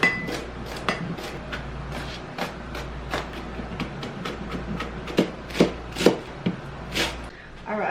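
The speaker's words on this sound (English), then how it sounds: "I'm gonna chop up the stems and the garlic" A knife chops herb stems and garlic on a cutting board, sharp irregular taps building into a quicker run of close, distinct knocks, with faint sounds of handling in between.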